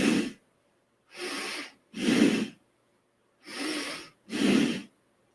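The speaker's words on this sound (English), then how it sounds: "We're going to take 3 bellows breaths." Forceful bhastrika bellows breathing in a yoga practice: five strong, rushing breaths through the nose, each about half a second long, evenly spaced with short silent gaps between them, close and clear, with no talking.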